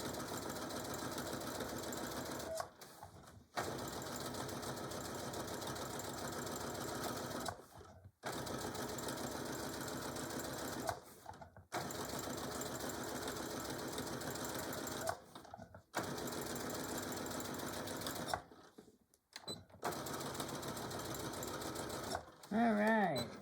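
Sewing machine stitching a Christmas table runner runs in several long, fast, steady bursts separated by brief pauses, close and loud, with a person speaking faintly near the end.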